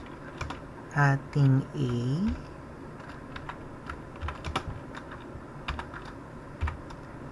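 Scattered keystrokes on a computer keyboard while someone types C++ code, coming in short irregular clicks after a brief moment of someone speaking.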